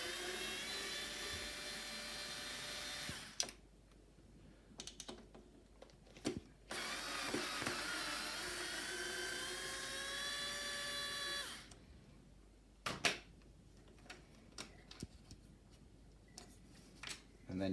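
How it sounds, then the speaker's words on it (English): Two screws inside the seat arm of a Stokke Xplory stroller are driven out with a whirring driver that runs in two long bursts, separated by close clicks and handling knocks. "after removing that top plate, you're going to have to unscrew these two screws inside"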